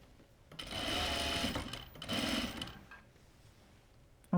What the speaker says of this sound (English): we'll sew right through to the hem of the sleeve